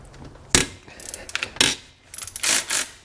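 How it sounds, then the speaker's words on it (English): A ratchet wrench with a 12 mm socket loosens an alternator bolt on a Subaru EJ25 engine, giving sharp metallic clicks and clanks in short bursts, close and fairly loud. "we're gonna have to loosen up the alternator now. 12 millimeter."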